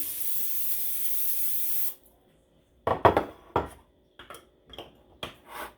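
A close, steady hiss of aerosol spray lasts about two seconds, then stops, followed by scattered clinks and rubbing sounds.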